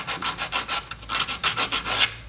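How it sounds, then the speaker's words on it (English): Sandpaper rubbed by hand on the bosses of a car brake caliper, making quick rhythmic back-and-forth scratchy strokes, close and steady throughout with no talking. "A piece of sandpaper will work just fine."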